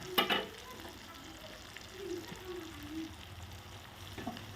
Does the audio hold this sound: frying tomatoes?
yes